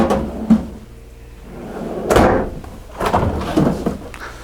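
A large residential refrigerator door in a 2017 Coachmen Chaparral 336TSIK RV kitchen opens and closes, giving a few close thumps and clunks spread over several seconds, with no talking.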